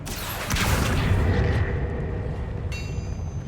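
Accio summoning spell in Hogwarts Legacy: a sharp magical burst followed by a deep rumbling boom that swells and slowly fades, ending with a bright shimmering chime, loud and alone without talk.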